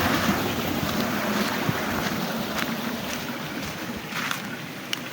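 A natural waterfall in hilly country pours in a steady, dense rush of water that holds at an even level throughout, with no voices.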